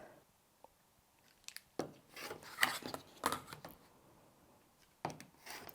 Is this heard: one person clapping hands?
no